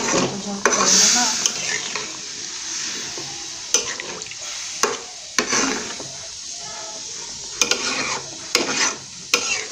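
Vegetable curry with winter vegetables and tomato stirred in a pot after water is added, giving a steady wet sizzle with sharp scraping clicks of a utensil against the pan at intervals, close and fairly loud.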